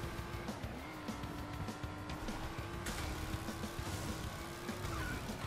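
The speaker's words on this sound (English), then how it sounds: "This is some phenomenal drifting at the moment from old Bwolf the Wolf, innit?" Karts race and drift in Crash Team Racing Nitro-Fueled on PS4 Pro, a steady engine drone with shifting pitch and occasional skidding swells, fairly faint and continuous.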